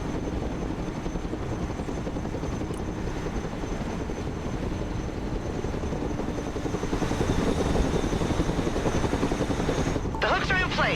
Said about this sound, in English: Cargo helicopters can transport troops and supplies, but also vehicles as long as their weight allows it